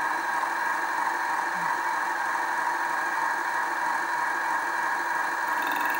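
A LittleMachineShop.com 3960 HT minimill cuts metal at raised RPM with a slow feed, giving a steady, loud motor whine and hum that runs unbroken throughout.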